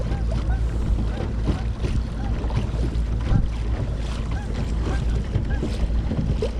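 Newport Vessels 55 lb thrust electric trolling motor pushing a Nucanoe Frontier 12 kayak across open water, heard as a constant broadband rush of water and wind buffeting without a break, with no talking.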